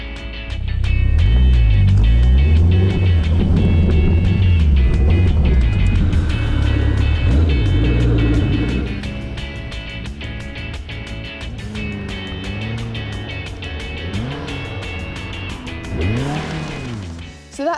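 A Caterham 420R sports car engine roars loudly and steadily on a race track, revving up and down with shifting pitch as it drives at speed, heard from inside or close by.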